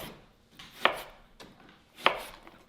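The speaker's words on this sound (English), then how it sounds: "So we'll do a nice slice of lemon." Two crisp knife cuts through a lemon on a cutting board, about a second apart, each a short sharp chop standing out clearly against quiet kitchen background, with no talking.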